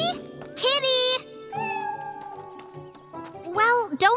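Cartoon cat meowing in a kids' dinosaur animation, several drawn-out high meows with a rising and falling pitch, one near the start and another at the end, with a voice calling in between.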